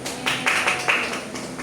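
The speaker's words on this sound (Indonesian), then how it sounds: "Tepuk tangan dulu untuk kelompok 2" A classroom group claps for group 2, a short burst of several hands clapping in a loose patter for under two seconds, fairly close and moderately loud.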